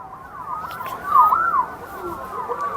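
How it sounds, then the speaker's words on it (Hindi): Ambulance sirens wail through the streets of the Negev after a rocket strike, with several rising and falling tones overlapping and rising louder midway over low street noise. "दूसरी तरफ एम्बुलेंसेस की आवाज़ें कैसी हैं"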